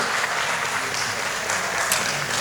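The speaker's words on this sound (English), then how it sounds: "Please give a big round of applause to Nandini" An audience at a teaching workshop gives a student named Nandini a big round of applause, a loud, even roar of many hands clapping throughout with no pauses.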